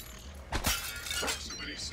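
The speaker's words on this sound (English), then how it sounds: "Smash the glass out in front of you." Glass shatters in the video game Prey: two sharp crashing bursts of breaking glass close together, followed by a lighter tinkling crash, loud and up close with game ambience beneath.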